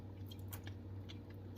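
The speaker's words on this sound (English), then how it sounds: "The parsnips are crunchy." Close, quiet chewing of crunchy parsnips with beans and seeds, soft crunchy bites and wet mouth sounds over a low steady hum.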